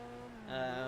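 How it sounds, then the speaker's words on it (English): A steady, buzzing car engine drones and rises in pitch partway through, like a racer revving in the pre-alpha racing game Next Car Game, with no talking. "Engine tones are up to standard, nothing exceptional."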